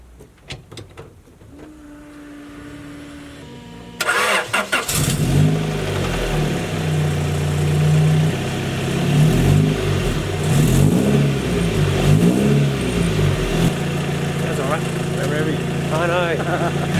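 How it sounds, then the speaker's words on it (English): A front-wheel-drive Honda drift car, fresh from a timing belt job, cranks with a whirring starter and catches, then idles loudly up close and is blipped through several rising and falling revs before settling back to idle. "We're going to start it up now and just see if the timing belt's all on properly and doesn't sound flappy or weird."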